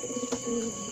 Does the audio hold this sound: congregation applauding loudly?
no